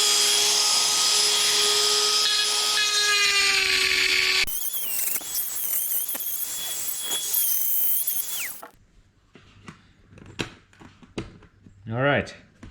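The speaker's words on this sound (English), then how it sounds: "So I have to Dremel that out." A Dremel rotary tool cutting out door panel clips on a 1961 VW Beetle, a loud high whine that runs for several seconds and changes pitch before stopping, followed by brief talk.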